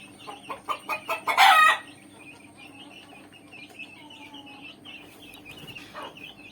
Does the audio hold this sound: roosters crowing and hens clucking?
yes